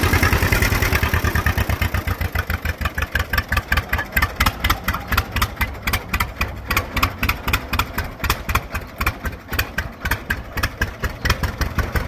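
A 1944 John Deere B tractor engine runs in high range second gear, loud close two-cylinder popping in a fast even rhythm that continues steadily throughout.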